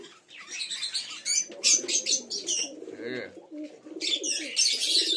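Domestic flying pigeons, including a Jiriya mada hen, coo in throaty rolling bursts close by, mixed with chirps and a brief flutter of wings.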